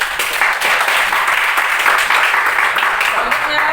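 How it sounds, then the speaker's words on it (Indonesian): Classroom audience applauding a student after a recitation in an Islamic moral-education lesson, steady dense clapping filling the whole stretch at close range with no pause. "Berikan tepuk tangan."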